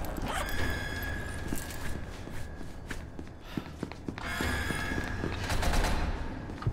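Bursts of automatic gunfire in a video game are mixed with quick footstep-like taps, with a sustained volley at the start and another louder stretch near the end.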